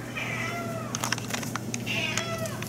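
A house cat meows twice near a kitchen refrigerator, each call a clear drawn-out mew about a second apart, over a low steady appliance hum with no talking.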